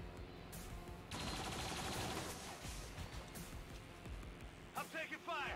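Gunfire crackles in the XCOM 2 video game, a loud, dense stretch of rapid shots and blasts with a sharp burst near the start and another spike toward the end, game voices talking over it.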